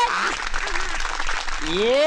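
An audience claps at a comedy show, a dense burst of applause throughout, with voices and a tonal sound rising over it near the end.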